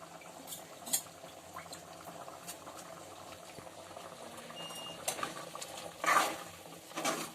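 Chicken gravy with ground coconut, coriander and mint bubbles steadily in a pot, a continuous soft simmer with brief scraping stirs and a few louder clatters near the end, no voices.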